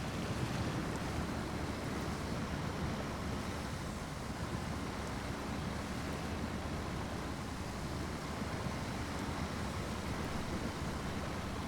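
A truck crosses a river in the video game Snowrunner, rushing water and engine roar blending into a dense, steady wash of noise that holds constant throughout.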